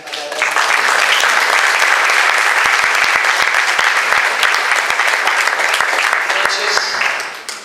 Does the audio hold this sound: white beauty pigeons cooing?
no